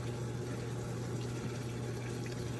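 A Samsung WA50R5200AW top-load washer fills with water, giving a steady, continuous rushing hiss with a low pump-like hum underneath, even and unbroken throughout.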